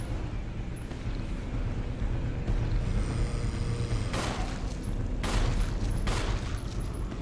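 Gunfire in Resident Evil Remake on Wii, a string of broadband shots and impacts rising out of a steady game-ambience bed, loudest in bursts near the middle and end, with no voices.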